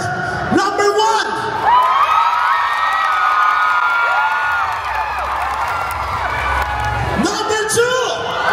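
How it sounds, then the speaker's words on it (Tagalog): A crowd at a Filipino community dance-challenge event cheers, whoops and shouts for competing performers, loud and continuous throughout, with scattered clapping in the mix. "Palakpakan na may kasamang hiyawan kung tingin ninyo ay maganda yung performance nila."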